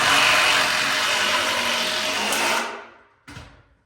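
A power driver runs a 4-inch screw into a log cabin wall, a loud steady whine for about two and a half seconds that trails off and stops, followed by a brief short burst.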